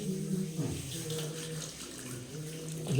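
Water pours steadily and fairly softly over a Shiva idol in a temple while voices talk over it.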